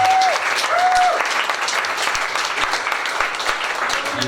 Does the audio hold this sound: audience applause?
yes